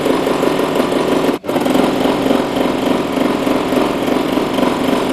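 Sewing machine stitching down the side of a fat quarter bunting flag, a steady close motor whir running throughout with one brief pause.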